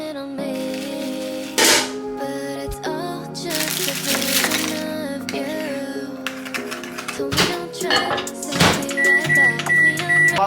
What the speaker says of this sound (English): Whilst that's in the microwave